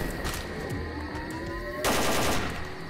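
Gunfire in S.T.A.L.K.E.R.: Call of Pripyat, a rapid automatic burst of shots rattling steadily, loud and close, then a louder crash near the end, with no talking.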